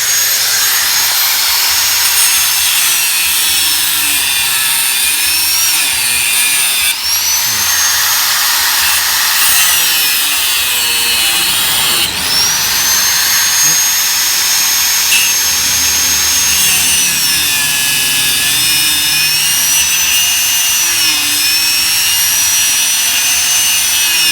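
A power tool grinds steadily to cut off a nail protruding through a torn tire tread, a continuous loud whine with shifting pitch that runs for the whole stretch without a pause.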